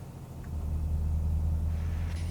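Bus engine in Euro Truck Simulator 2 rumbling low and steady as it downshifts, the drone swelling slightly, with no talking over it.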